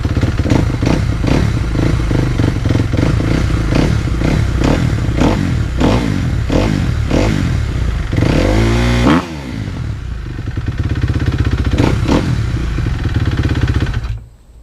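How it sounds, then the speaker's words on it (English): A 2013 Kawasaki KX250F engine warms up close by, loud and steady with a rapid pulsing throb, dipping briefly in pitch partway through before recovering and then cutting off at the end. "thing I like to do before I change oil is I like to warm my bike up."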